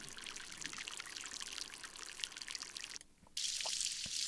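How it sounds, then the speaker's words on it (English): Steady rushing water from a small, fast-flowing runoff stream, with a brief dip partway before the splashing returns brighter and louder. "this is a runoff stream, fast moving, smaller one."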